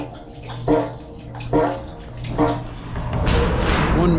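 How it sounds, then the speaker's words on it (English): Maple sap gurgles and splashes steadily into a bulk tank in a sugarhouse, with rhythmic surges about once a second from a pump, close by. "You can hear the pump working."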